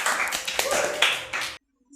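Live audience clapping for a young contestant on a Nigerian children's singing competition show, a dense burst of applause that stops abruptly after about a second and a half.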